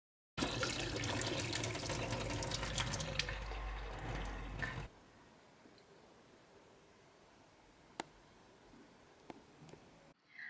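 Water from boiled sweet potato strips pours steadily and loudly for several seconds, then stops abruptly, leaving a quiet room with a few scattered drips and clicks.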